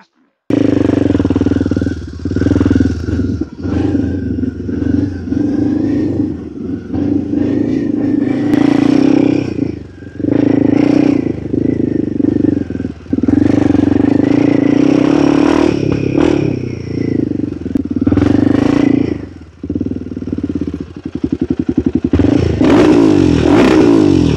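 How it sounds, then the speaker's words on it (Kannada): A Royal Enfield Himalayan 450 fitted with an AEW aftermarket exhaust and its dB killer removed revs hard and repeatedly, with loud throaty blips and brief dips, close and dominant throughout. "DB ಕಿಲ್ಲರ್ ಬಿಚ್ಚಾಕಿದ್ರೆ ಸಿಕ್ಕಾಬಿಟ್ಟೆ ಸೌಂಡ್ ಬರುತ್ತೆ"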